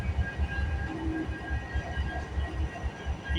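CPKC freight train rolling past near a rail yard, with a distributed power locomotive at the rear; a continuous low rumble with rhythmic wheel thumps, close and steady, with no talk.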